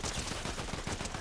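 Rapid gunfire from a weapon in the video game Fortnite, a dense continuous burst of shots under game sound with no pause across the moment.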